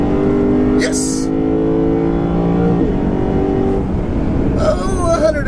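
A 2015 Lexus RC F on a racetrack rises in pitch under acceleration, then drops through rising and falling tonal sweeps as it downshifts with throttle blips, heard from inside the car with someone talking over the engine.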